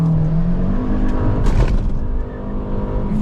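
A Hyundai Creta N Line with manual gearbox accelerates hard in first gear with traction control off, its engine note rising loud and close, then briefly dipping as revs shift, with a steady interior drone throughout.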